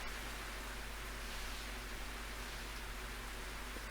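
Continuous rainfall in the game Slow Damage, a soft uniform hiss of steady rain held at a constant, fairly quiet level with no talking.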